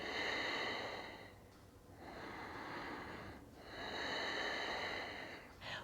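Slow, deep breaths during a heart-opening backbend yoga practice, three long airy inhale-exhale sounds separated by brief pauses, close and fairly soft, with no talking.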